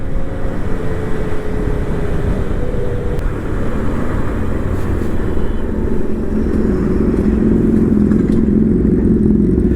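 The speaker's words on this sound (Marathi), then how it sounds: "स्पोर्ट्स बाईक कशा जाताना झुम झुम करत एकदम" Loud, close sports motorcycle engines, including a Triumph Street Triple, roar steadily past, a constant droning rumble that rises slightly in pitch toward the end.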